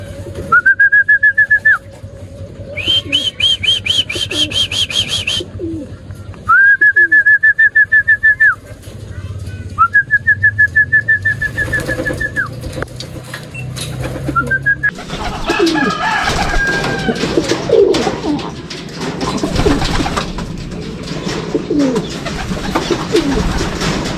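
Racing pigeons at a club training flight, heard as several loud, sustained tonal coos repeated in bursts early on. Later comes a stretch of noisier outdoor background with scattered faint bird sounds.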